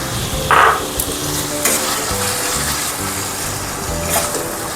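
Spice paste and fish oil fry in a pan for a Bengali ash gourd dish, giving a close, continuous sizzle with a few brief louder crackles and stirring scrapes and no talking.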